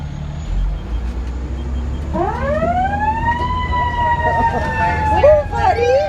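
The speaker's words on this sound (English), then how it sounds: "You hear the siren? You hear it?" Fire truck siren sounding during a ride aboard the truck, rising from a low engine rumble into a loud wailing tone that holds steady, with a second warbling siren pattern at the end.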